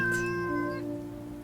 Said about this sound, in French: Minou, t'as faim? Pépette, Kitty, t'es réveillée?